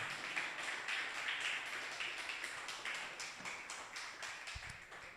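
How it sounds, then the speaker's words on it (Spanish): A church congregation claps together in a quick, even rhythm, the claps sounding faint and somewhat distant and continuing steadily from start to end with no speech over them. "¿Alguien puede darle un aplauso al Señor en esta hora?"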